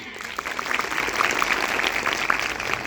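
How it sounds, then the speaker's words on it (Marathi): Steady applause from an audience honouring teachers at a Republic Day school speech, a dense continuous patter of many hands that stays fairly even for the whole stretch. "या सर्व गुरुजन वर्गासाठी मित्रांनो एक जोरदार टाळ्या होऊ द्या"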